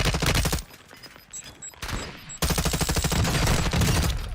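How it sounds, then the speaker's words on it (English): Gunfire in Call of Duty Warzone 2.0, loud rapid bursts of automatic shots, a brief quieter gap with scattered pops, then another sustained rattling burst. "So these guys are shooting"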